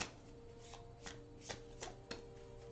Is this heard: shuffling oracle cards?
yes